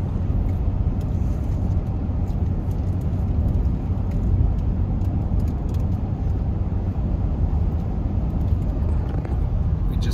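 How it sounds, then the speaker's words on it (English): Inside a vehicle driving along a road in New Mexico, a constant loud low engine and tyre rumble fills the whole stretch without a break. "Driving back to the trade show."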